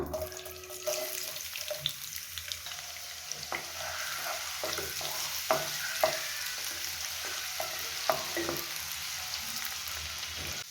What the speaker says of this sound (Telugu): ఆయిల్ వేడైంది కదా, ఉల్లిపాయ ముక్కలు వేసుకుందాం.